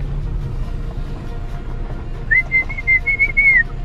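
Someone whistles outdoors near a cemetery in Metropolis, Illinois: a single sustained, slightly wavering whistled note in the second half, loud and close over a low background rumble.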